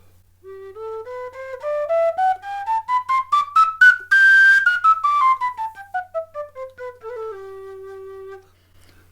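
Diatonic flute with Irish penny whistle fingering playing a major scale up and back down, clear, breathy separate notes one after another, played alone and close.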